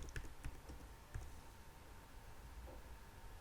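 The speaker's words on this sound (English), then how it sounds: "we type the VLookup function starting from VLookup" Keys clatter on a computer keyboard while a VLookup spreadsheet formula is entered, a fast irregular run of taps that bunches near the start and around one second, then thins into a soft, close, steady patter with no voices.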